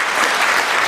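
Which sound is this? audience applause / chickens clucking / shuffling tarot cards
audience applause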